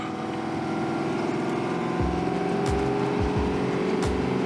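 A truck engine labours in first gear under a heavy load, a steady loud drone with low rumbling surges and a brief higher whine, with no voices.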